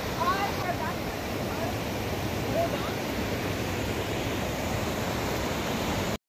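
Seven Sisters waterfall at Sohra in Meghalaya pours steadily, a broad, even roar of falling water that stays constant and fairly loud throughout, with no speech over it.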